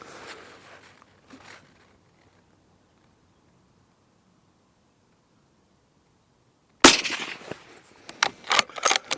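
A Seekins Precision Havak Pro Hunter 2 rifle fires once, a sharp loud crack with a brief echo, followed by rapid metallic clicks and rattles of the bolt working outdoors.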